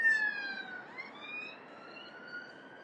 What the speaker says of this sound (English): There's a British police car for anybody who isn't English.